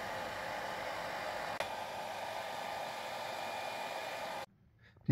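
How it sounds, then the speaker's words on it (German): A hair dryer blowing on fresh paint gives a steady, close, breathy whoosh that runs for about four seconds, with a brief click partway through, then cuts out into near silence before a short bump at the end. "und jetzt müssen wir das Ganze auch noch ein bisschen trocken föhnen."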